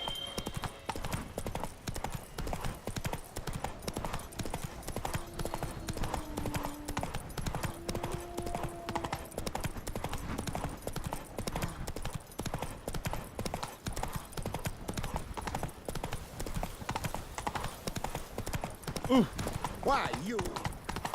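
Roach, the horse in The Witcher 3, galloping: quick, steady hoofbeats clatter throughout at moderate level, with a short whinny and occasional voices over the rhythm.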